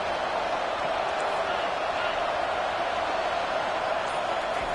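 Stadium crowd at a football game roars as a steady, dense wash of noise, loud and continuous throughout with no distinct peaks.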